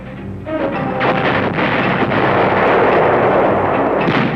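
World War II field artillery fire, a loud continuous roar of booming guns and rumbling blasts that fills the whole stretch with dense, heavy noise, close and overwhelming, with no voices audible.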